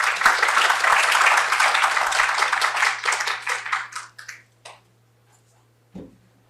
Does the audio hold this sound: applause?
yes